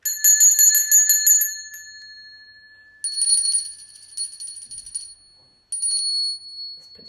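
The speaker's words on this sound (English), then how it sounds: "Here's the big bell. And here's the small one." Two bells ring in turn: a rapid run of bright, high strikes first, then a few slower, deeper-toned rings that linger and fade, with no talking.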